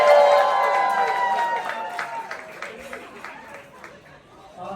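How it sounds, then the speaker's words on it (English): Guests at a couple's welcome dinner cheer and whoop together in a room, a loud crowd shout with a sustained high voice that fades into chatter and some scattered clapping. "if you're here tonight from the groom side, give me a cheer"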